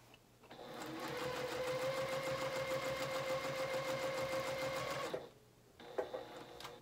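Sewing machine top stitching a fabric lovie with a dinosaur to be attached, running steadily and close for about five seconds, then stopping with a few brief clicks.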